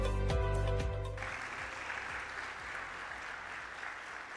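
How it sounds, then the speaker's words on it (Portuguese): Congregation in a church service applauding, a loud burst at the start with music or a held tone under it, then settling into steady broadband clapping that continues evenly to the end. "Eu te convido para dar um forte aplauso e entregar a Ele o nosso melhor."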